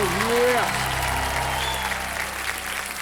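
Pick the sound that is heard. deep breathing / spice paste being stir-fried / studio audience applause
studio audience applause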